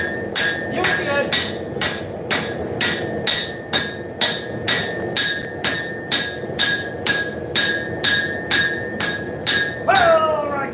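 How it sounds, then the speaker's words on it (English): A hammer forges hot horseshoe steel into a knife on an anvil, loud ringing metallic strikes in a steady rhythm roughly twice a second with faint voices underneath. "we're going to be forging in the finger wells over, right?"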